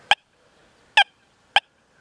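A Deus 2 metal detector with an 11-inch coil gives three short, sharp target beeps, evenly spaced and clear against a quiet background.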